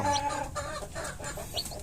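Chicks kept in a heated brooding box, producing soft overlapping cheeps and clucking calls close by over a continuous low background hum, with no talk.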